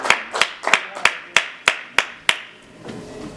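A church congregation clapping in unison, about eight sharp, evenly spaced claps in a steady rhythm, ringing slightly in the room before fading into a faint murmur.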